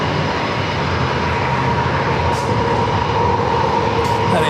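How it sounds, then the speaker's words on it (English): An Alaska Airlines Boeing 737 MAX 9 on its takeoff roll at San Diego airport, a continuous loud engine roar with a steady hum, holding level throughout with no voices. "We got Alaska 737, I believe it's a MAX 9 lining up. Already cleared for takeoff."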